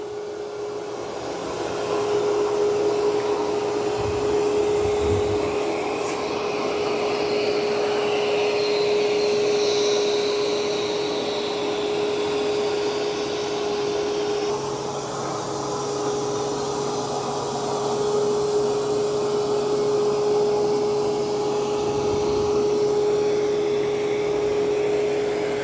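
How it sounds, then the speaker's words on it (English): An ECOVACS DEEBOT N20 Plus robot vacuum runs on a two-pass cleaning setting over a floor strewn with long hair. It gives off a steady, continuous whirring hum with a constant tone and no pauses, with no voices heard. "doing a good job of vacuuming"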